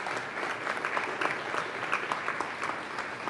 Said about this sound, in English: I think it would be appropriate for you to give these very generous and important sponsors a nice round of applause